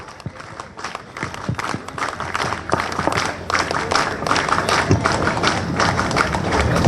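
An audience at a political party's anniversary tribute in Peru claps, starting with scattered individual claps that quickly swell into loud, rhythmic, sustained applause close to the listener.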